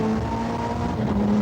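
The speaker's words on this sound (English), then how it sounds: "Andy Rouse has got an experimental engine with higher turbo boost. It's giving him more power." Onboard at a 1988 British touring car race, an experimental higher-boost turbocharged engine drones steadily and loudly from inside the car, a constant hum with slight pitch shifts and no talk over it.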